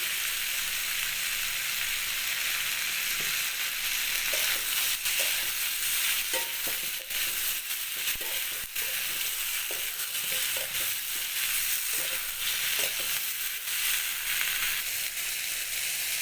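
Ridge gourd and eggplant fry in a pan with a constant crackling sizzle, while a spatula stirs them now and then with soft scraping knocks.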